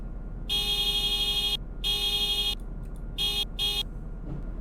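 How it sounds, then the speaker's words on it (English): Horn of a 2017 Sumo Boxas truck in the Roblox game Greenville: four loud, bright electronic honks, two longer blasts followed by two short quick toots, over a low steady engine hum. "Here's what its horn sounds like."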